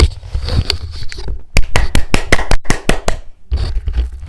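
A run of about ten crisp hand claps in a quick, slightly uneven rhythm, close and loud, set between stretches of quiet room noise.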